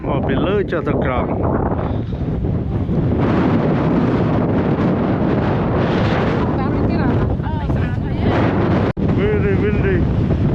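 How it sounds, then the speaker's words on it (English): Strong wind at Zabriskie Point in Death Valley, California, roars and buffets constantly against the microphone, loud and close for the whole stretch, with faint voices partly buried beneath the gusts. "Very windy."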